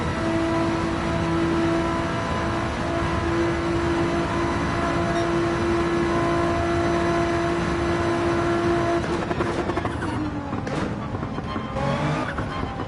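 A Nissan GT-R in Gran Turismo 7 drives with a steady, droning engine note held at constant speed, then the pitch shifts and dips as it brakes and changes gear near the end, with faint tyre noise, no talking.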